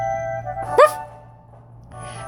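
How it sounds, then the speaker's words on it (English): A single sharp dog bark from the video game Shall We Date? The Niflheim+, a short loud yelp rising over steady background music, followed by quieter music. "let out a mighty bark and wagged his tail"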